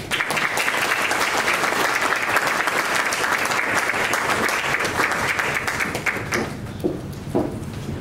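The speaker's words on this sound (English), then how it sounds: "Give them a round of applause." Sustained applause from an audience at a school board meeting, steady dense clapping throughout that thins and tapers near the end.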